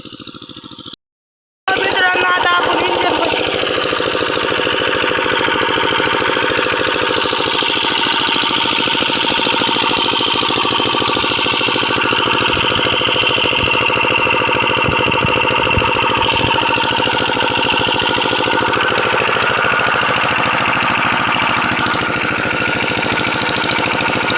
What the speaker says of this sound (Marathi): इंजिन चालू आहे